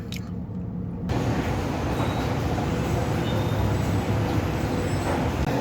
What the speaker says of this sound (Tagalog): Ayan po mga kaibigan, traffic.